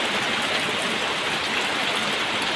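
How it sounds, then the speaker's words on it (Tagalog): Heavy typhoon rain pouring down steadily around a flooded goat house, a dense, continuous hiss of water drumming on surfaces with no breaks, close and loud. "Dahil sa walang katapusang ulan talaga."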